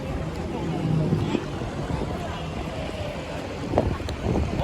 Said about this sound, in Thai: ลมแรงจริง